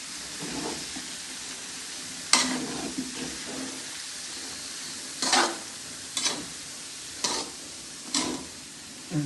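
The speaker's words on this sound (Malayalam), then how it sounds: "ചിക്കൻ പൊരിച്ച എണ്ണയിൽ തന്നെ ഉള്ളി വാട്ടിയാൽ" Sliced onions softening in leftover chicken-frying oil, a low continuous sizzle close by, punctuated by about six sharp scraping stirs of a spatula at irregular intervals.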